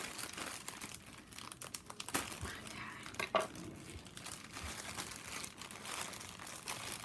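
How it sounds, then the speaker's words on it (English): A tightly stuffed mail parcel unpacked at a table, packing material crinkling and rustling continuously up close, with a few sharper crackles. "I guess I'm gonna have to snip it here because it is just well packed."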